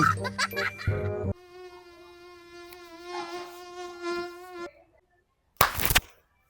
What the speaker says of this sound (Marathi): मोकार डास येतील मधी